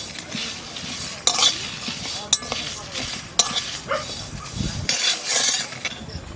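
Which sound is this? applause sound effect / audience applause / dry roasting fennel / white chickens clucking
dry roasting fennel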